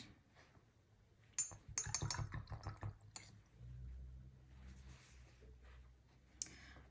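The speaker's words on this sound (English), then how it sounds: "rinsing out the brush" A paintbrush rinsed in a water jar while painting Greek Easter eggs: quiet splashing, swishing and clinks of the brush against the glass in a short burst, then a softer low rumble and faint drips, close and quiet.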